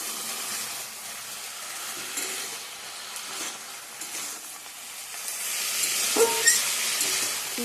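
Malabar spinach cooks in a pan on the stove with a steady, soft sizzle and hiss, faint and continuous with a few small clinks near the end.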